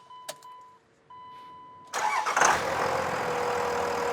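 A few warning chimes, then a brief crank as a large diesel truck engine with a VP44 injection pump fires and settles into a steady, loud idle.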